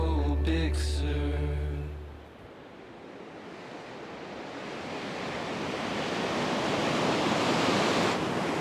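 Ocean waves wash onto a Big Sur beach in a steady, building roar of surf, with a brief tonal sound at the opening before the broad wash of water swells louder.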